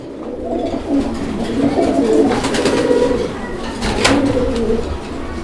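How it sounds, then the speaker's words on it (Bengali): Fancy Lahori and magpie pigeons coo in soft, rolling low calls, overlapping phrases repeating close by over a steady background hum. "আরো এক জোড়া ম্যাকপাই কবুতরের কালেকশন রয়েছে"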